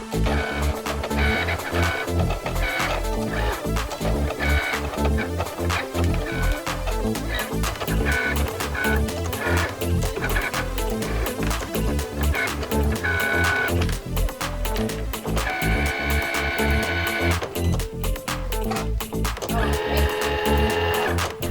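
A vinyl cutting machine slicing Siser Brick heat transfer vinyl runs continuously nearby, its motor whirring with rapid stuttering clicks and shifting pitched tones as the carriage moves back and forth, with no speech.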